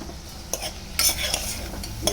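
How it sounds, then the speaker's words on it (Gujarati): Spices are stirred into vegetables in a pressure cooker, giving a brief run of scraping spoon strokes with light metallic clinks against a low sizzle. "શાકભાજી સાથે મસાલા મિક્સ કરી દઈશું."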